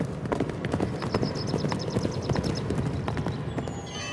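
Rapid clip-clop of cavalry horse hooves at a brisk gait, several horses close together, with jingling tack and a faint whinny near the end.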